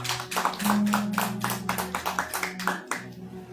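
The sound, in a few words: applause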